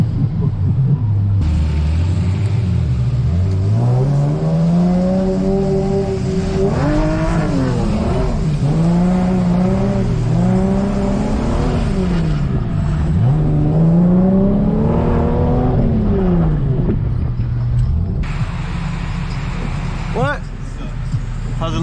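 Cars drifting rev hard and continuously, engine pitch sweeping up and down in repeated rising and falling waves under a loud rumbling roar, close by and sustained throughout.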